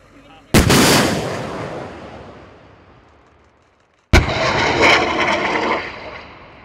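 Two TOW anti-armor missiles fired in live-fire launches: each a sudden loud blast trailing into a long fading roar, the second following a few seconds after the first.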